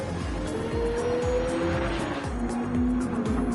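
Race cars at speed on the Sardegna circuit in Gran Turismo 7, several engines whining and shifting through gears with repeated tire squeal as they brake and corner, loud and continuous.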